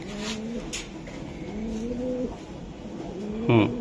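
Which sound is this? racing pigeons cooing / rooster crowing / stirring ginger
racing pigeons cooing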